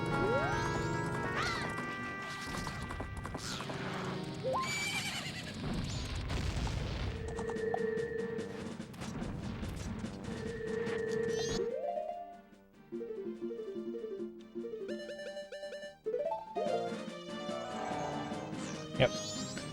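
Bombs exploding in the N64 game The Legend of Zelda: Majora's Mask, several booming blasts and crashes amid game music and effects, with a voice talking over the first part.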